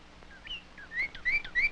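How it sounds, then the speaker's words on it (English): Birds chirp with thin whistled notes, faint at first and then repeating more strongly in a quick rising pattern over soft background noise. "He found birds."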